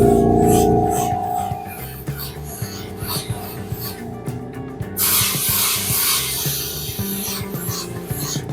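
A spray gun lays light coats of paint onto carbon fiber, with short hissing bursts in the second half after a stretch of quieter rubbing and handling noises, all close and fairly loud.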